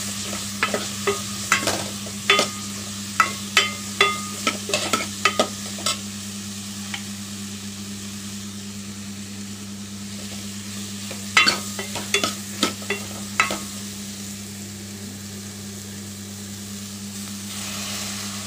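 A spoon stirs sambar powder, red chilli powder and coriander powder into a pan, producing clusters of sharp scraping clicks over a steady low sizzle, with a quiet pause before a second short burst of stirring.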